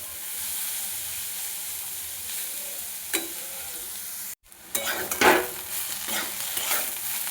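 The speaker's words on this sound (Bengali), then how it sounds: "ফুলকপিটা ভালোভাবে কষাবো" Cauliflower pieces sizzle and fry in a pan over raised heat for a cauliflower kachori dish, a steady hiss broken by a few scraping stirs and a sharp clatter near the end.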